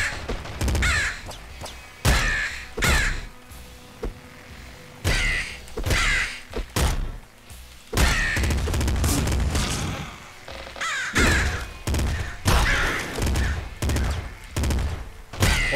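Crows caw and attack amid bursts of gunfire in the video game Nuclear Throne, a loud, rapid string of sharp caws and shots that keeps going with brief gaps throughout.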